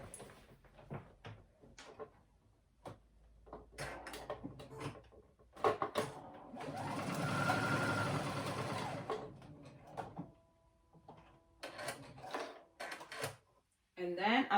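A sewing machine top stitches a quarter inch from the edge at the neck of a Duke jacket, humming steadily for a few seconds amid clicks and bumps of fabric handling before and after.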